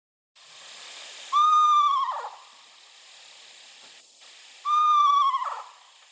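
Two drawn-out, rasping owl calls ring out about three seconds apart, loud and near, each ending in a harsh downward tail, with quiet hissy background between them.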